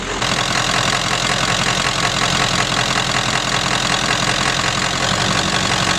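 A Ford F-series pickup's engine idles steadily while hot, a constant low rumble with a faint knocking rhythm running unbroken at close range, no voices over it.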